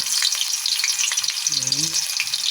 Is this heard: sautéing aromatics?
yes